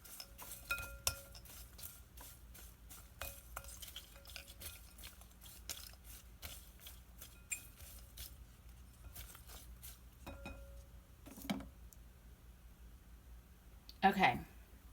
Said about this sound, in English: So I'm just stirring this up a little bit so the essential oils can coat everything